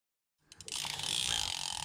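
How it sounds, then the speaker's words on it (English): Mitchell 330 spinning reel with all-metal gears being cranked, a steady, loud ratcheting whir that starts abruptly and runs continuously without pause. "You can hear, like most Mitchells, it's pretty noisy."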